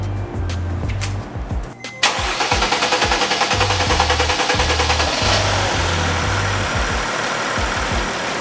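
Camper van engine after a repair cranks briefly, falters, then catches at about two seconds and settles into a steady, loud, close idle with a rhythmic low throb.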